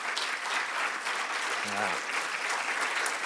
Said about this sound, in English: We'll give them all applause.